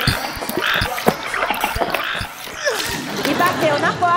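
A splash into a frog pond, staged as a children's Bible-journey show, comes as a quick watery splatter with possible croaks, mixed in among lively spoken narration and effects.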